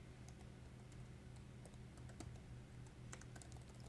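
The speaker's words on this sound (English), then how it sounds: "I'm typing in a username and an email address" Someone types a username and email address on a computer keyboard, a quiet rapid run of light key clicks with irregular rhythm and no talking.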